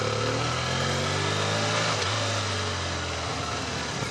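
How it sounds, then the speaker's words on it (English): A 2012 BMW F800ST motorcycle engine and exhaust while riding, a steady flat, low drone with droning harmonics and wind, continuous and fairly loud throughout with a slight dip in pitch midway. "The exhaust note is not entirely engaging or thrilling, or it's just like a flat fart, but I guess it works for touring, and it's a quiet motorcycle"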